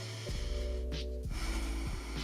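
Nasal inhalation during a jump rope workout: a brief, close sniffing breath in through the nose, heard alone over a low steady hum.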